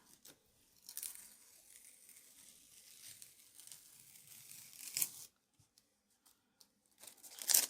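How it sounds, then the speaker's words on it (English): Masking tape peeled off the edge of a mixed media abstract painting, a faint close ripping and crinkling that comes in short pulls separated by pauses, with a sharper tear near the end. "If it doesn't rip the tape a little bit."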